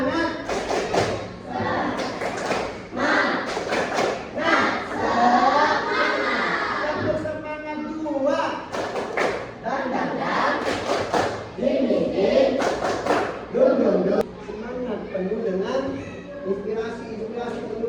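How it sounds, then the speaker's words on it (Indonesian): A classroom of students performs a rhythmic spirit clap chant, sharp group claps falling in patterned bursts mixed with shouted voices in unison, with a teacher talking between rounds. "Tepuk semangat. 1, 2, 3, tepuk semangat."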